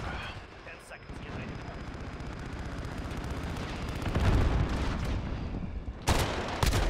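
MP5 submachine gun fire in Call of Duty: Modern Warfare, rapid continuous bursts with dense game-battle noise, loud and sustained, with a voice talking over the action.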